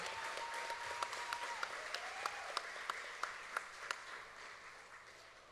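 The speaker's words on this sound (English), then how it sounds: "Another round of applause for Dorothy Rogers, our Little Miss 2022-23." Audience at the Choctaw Nation Princess Pageant applauding a newly named Little Miss, soft steady clapping with a few sharper claps standing out, fading toward the end.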